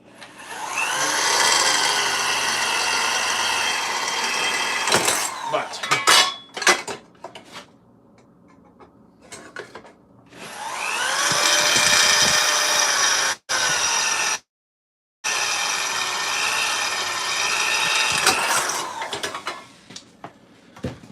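Loud high-pitched whine of a power drill biting into metal armour to make rivet holes, several bursts separated by brief pauses and clanks, with no talking.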